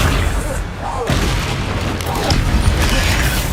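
Booming, crackling blasts of an ancient magic attack striking an enemy in the Hogwarts Legacy video game, a dense, loud continuous rumble with heavy low-end impacts throughout, with game voices faintly mixed in.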